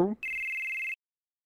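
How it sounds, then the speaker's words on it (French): A telephone rings with a single steady electronic tone that lasts under a second, right after a brief voice, then silence. "c'est mon téléphone qui sonne"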